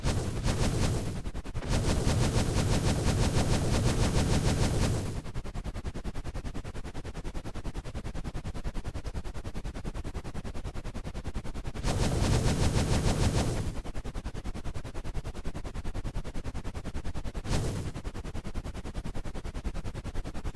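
Helicopter weapons fire in the THX Helicopter Mod video game: loud sustained bursts of rapid gunfire, one around two to five seconds and another near twelve to fourteen seconds, with a brief burst near seventeen seconds and a steady mechanical drone between.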